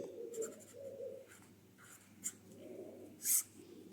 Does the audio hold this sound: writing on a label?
yes